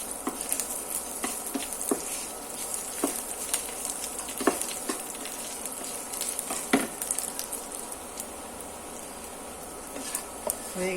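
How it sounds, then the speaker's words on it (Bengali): Shrimp frying in a pan gives a steady, fairly quiet sizzle throughout, broken by scattered sharp pops and spits, with no one speaking. "চিংড়ি মাছ ভাজা।"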